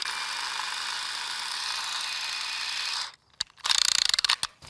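A ratcheting cutter works through PVC electrical conduit: a steady hiss for three seconds, a brief pause, then a rapid run of sharp clicking ratchet strokes, close and fairly loud.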